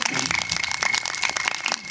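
A crowd at a Vedic devotional bhajan gathering claps in a brief, dense burst, with a steady tone running underneath.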